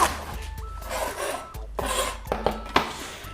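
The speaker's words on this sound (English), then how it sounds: "We're gonna cut the top off with a nice sharp serrated knife." A sharp serrated knife saws through the top of a fresh artichoke, close-up rasping strokes in short repeated bursts with brief pauses between them.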